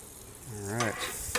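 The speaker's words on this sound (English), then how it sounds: "Get some more butter melted in here." Butter melts and sizzles on a hot griddle in a soft, steady hiss, with a brief squeaky scrape partway through and a light clack near the end.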